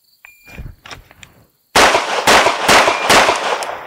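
Gunshots fired during timed shooting practice with a RangeTech Bluetooth shot timer: a few light shots at first, then after a short silence a rapid string of loud, close, sharp reports.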